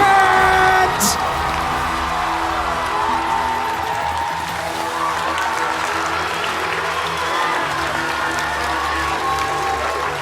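A large crowd applauds and cheers loudly and steadily for the newly crowned EUIC Junior Pokemon champion at a big tournament, with whoops rising over the dense clapping throughout.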